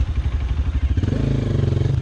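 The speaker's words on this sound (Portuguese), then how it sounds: "Liga a moto, melhor." A trail motorcycle sputters and catches, its engine clattering unevenly at first before settling into a steady, close, rough idle.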